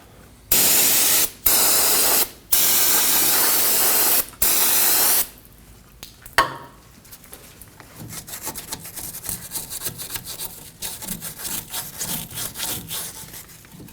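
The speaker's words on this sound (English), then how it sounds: "Now I'm going to use some brake parts cleaner and a brush to clean up the hub mating surface." Brake parts cleaner sprays in four loud hissing bursts onto a Ford Edge front hub mating surface, then a brush scrubs the metal with a steady, softer scratching rhythm, close up with no talk.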